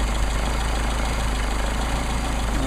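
Mercedes 190SL engine with Solex carburetors idling at about 1,000 RPM, a steady, close, continuous low rumble with no talk.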